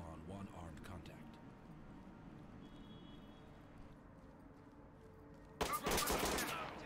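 Gunfire in the tactical shooter Ready or Not, a sudden loud burst of close rapid shots near the end that follows a long stretch of quiet background ambience with faint voices.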